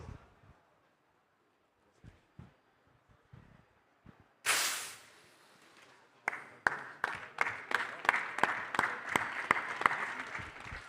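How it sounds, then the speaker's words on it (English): Crowd applause at a STEM racing world finals event in Singapore, a sudden loud burst followed by sustained clapping with sharp individual claps, preceded by quiet murmurs. "let's have a massive round of applause"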